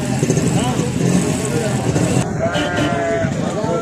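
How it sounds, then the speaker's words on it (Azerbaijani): Male goats bleat repeatedly nearby at a livestock market in Maştağa, amid a noisy outdoor crowd, with people talking and traffic rumbling in the background. "Erkək keçilər."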